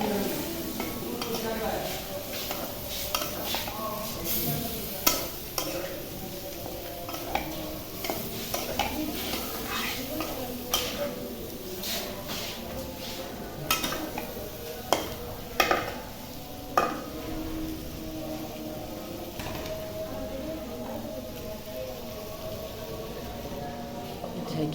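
Meat and potatoes fry in a pan while a spoon stirs and scrapes, giving irregular clanks and scrapes over a soft steady sizzle, with a voice talking at times.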